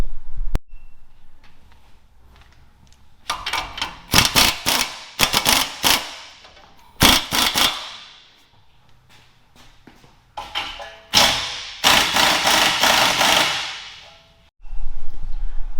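Bursts of loud metallic hammering and banging as tie rod ends are knocked loose on a 2020 Ram 1500 during a lift kit install, coming in irregular clusters of rapid blows with short pauses between.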